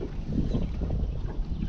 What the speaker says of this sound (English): the wind fucking pushes me off.